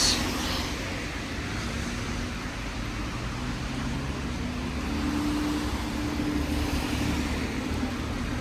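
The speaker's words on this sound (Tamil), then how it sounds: "டிராஃபிக் கொஞ்சம் கூட தான் இருக்குது இந்த நேரத்தில்" Road traffic in a Swiss town rumbles steadily nearby, a continuous low engine drone with cars passing at moderate volume and no talking.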